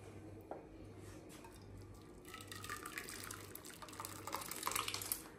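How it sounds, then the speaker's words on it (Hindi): Curdled milk being strained in a home kitchen while making rasmalai: a steady splashy pour of whey and water trickling through a strainer, growing louder midway with faint clinks of utensils, no talk. "और अब हम इसे छान लेंगे।"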